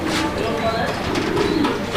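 A male Iranian toggy pigeon coos close by in brief repeated throaty calls, with a voice talking over it.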